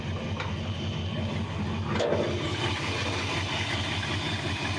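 A 1962 Ford F100 Unibody truck's V8 engine idles, rumbling continuously at close range, low and even, with no speech over it.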